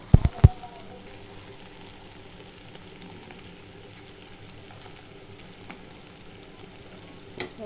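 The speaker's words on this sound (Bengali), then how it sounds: "হলুদ গুঁড়ো ভালোভাবে ভেজে নিব" Turmeric powder fries with salt and spices in a pan, making a faint, steady low sizzle with a couple of sharp clicks at the start.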